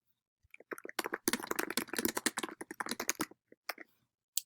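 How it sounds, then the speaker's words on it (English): A computer keyboard is typed on in a quick, uneven burst of close, crisp key clicks that thin out into a few scattered taps near the end, with no talking. "Then you're going to start typing."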